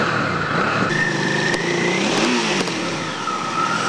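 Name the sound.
roar of motorcycle engines revving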